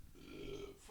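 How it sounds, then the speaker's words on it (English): A low, rumbling burp goes right into a microphone, brief and close, with a bit of voice mixed in. "you keep burping the mic"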